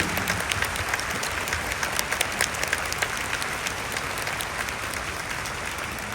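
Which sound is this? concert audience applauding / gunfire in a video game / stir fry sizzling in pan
concert audience applauding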